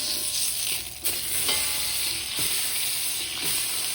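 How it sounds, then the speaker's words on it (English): Pork loin searing and browning in a hot pan: a loud, steady sizzle close by, broken by a few soft knocks and scrapes as the meat is moved, with no talk. "flip up the pork loin for the other side too. We need to brown it."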